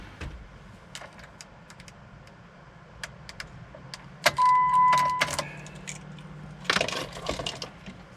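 Keys clinking and jangling for a Jeep JK key fob in a car cabin, scattered light metallic taps over a low engine-like hum, with a brief electronic chime tone in the middle and a louder rustle of handling near the end.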